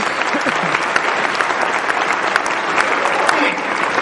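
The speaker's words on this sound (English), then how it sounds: "Folks, give them a round of applause." A crowd at a Tea Party convention claps steadily and loudly throughout, dense applause with scattered voices mixed in.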